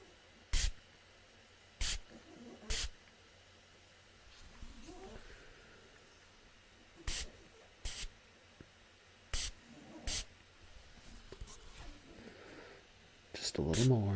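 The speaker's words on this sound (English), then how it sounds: "hold still, I'm gonna start spraying." Short bursts of hair spray from an aerosol can hit someone's hair, about eight separate hissing puffs spaced a second or two apart, close by, with quiet talk between them.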